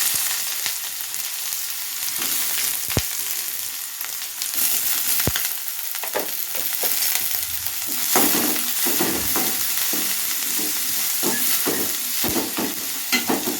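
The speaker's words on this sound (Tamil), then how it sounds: "ரெண்டு வெங்காயம் வந்து நல்லா பொடியாக கட் பண்ணி வச்சுக்கிறேன் இதை நம்ம இதில் போட்டு தாளிச்சிக்கலாம்" Finely chopped onions sizzle steadily in a hot pan with mustard seeds, tempered for a masala sundal, with a continuous loud fry and occasional sharp pops and stirring scrapes, no voices.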